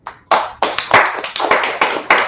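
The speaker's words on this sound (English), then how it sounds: "Let's clap it up." A handful of people clap at a religious law class, giving about eight sharp, loud, irregular claps close by with no talking over them.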